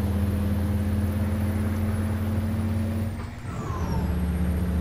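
A Peterbilt 389 truck in Euro Truck Simulator 2 drones with a steady low engine rumble, then briefly dips as the gears shift with a hiss-like air release before the engine note picks back up, loud and continuous throughout.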